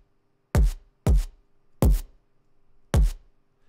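Four punchy synthesized drum and bass kick drums, EQ'd to remove boxiness, each a sharp deep thump with quick decay, in an uneven pattern over near silence, close and clean.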